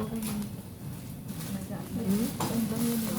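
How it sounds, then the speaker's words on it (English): Red onion frying in a pan in a teaching kitchen, a soft sizzle with stirring and utensil clinks, heard under steady conversation. "You can fry the red onion, fry all for me"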